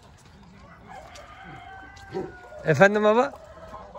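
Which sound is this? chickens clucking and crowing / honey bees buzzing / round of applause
chickens clucking and crowing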